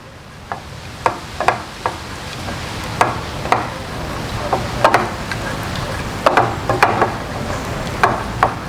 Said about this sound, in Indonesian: Kita masukin ya bun bawang putihnya. Oke, kita tumis sampai harum.